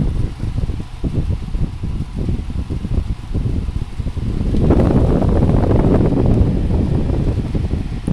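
A plastic Lakewood oscillating fan blows air with a loud, close rushing whoosh and some buffeting against the microphone, growing steadier and stronger partway through.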